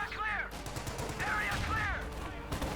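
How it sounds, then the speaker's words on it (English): In the World War II strategy game Company of Heroes 2, an anti-tank gun fires sharp booming shots amid a rattling fusillade of battle noise, with a commentator talking over the action. "Anti-tank gun firing at the church."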